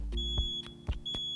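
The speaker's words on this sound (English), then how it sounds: "When testing your smoke detector, you want to make sure that you push the test button." A smoke detector's test button sets off a series of short, sharp, high-pitched beeps, about four evenly spaced chirps, clear and close in a quiet room.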